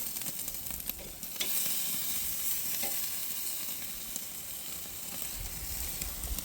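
Steaks sizzle on a hot grill with a dense, steady crackling hiss and occasional sharper pops, close and continuous throughout.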